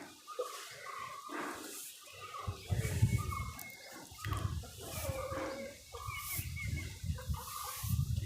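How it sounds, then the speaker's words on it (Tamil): Chickens cluck and call repeatedly in a farmyard, several birds at moderate distance, with low rumbling background noise throughout. "கோழியும் நிறையா இருக்குது"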